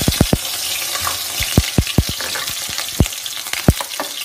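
Fifteen to twenty garlic cloves dropped into smoking-hot oil on a lowered gas flame for a sweet turnip pickle, crackling and sizzling steadily with sharp pops scattered throughout, close and fairly loud, no talking.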